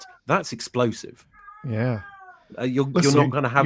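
A pet cat meows clearly in a short drawn-out call between stretches of conversation, with people talking before and after it.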